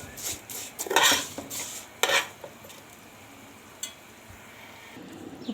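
Vermicelli frying golden in a pot for Egyptian rice, a spoon clanking and scraping against the metal in a few bursts at first, then a quieter low sizzle with an occasional knock.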